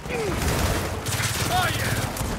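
Rapid automatic gunfire in suppression mode in the Gears of War 4 video game, a steady stream of shots under game effects and brief voices.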